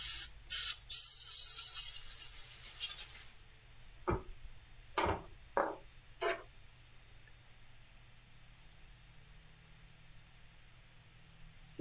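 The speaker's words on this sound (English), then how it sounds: "let me rinse this so you can see." A water spray rinses polish off a freshly polished car surface with a loud hissing burst lasting about three seconds, followed by a few faint scattered ticks and drips in a quiet background.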